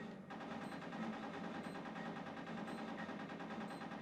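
Rapid automatic gunfire in the video game Conker's Bad Fur Day, a steady dense rattle of shots that runs continuously for the whole stretch at a loud, even level with no talking.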